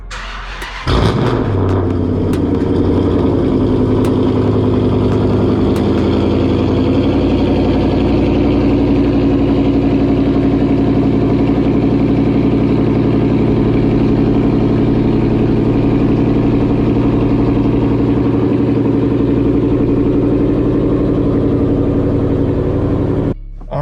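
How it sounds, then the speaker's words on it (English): A car engine cold-starts in a garage with a sharp crank and catch, then settles into a loud, steady, even idle that runs on unchanged for about twenty seconds before cutting off at the end. "let's go ahead and get that code start going"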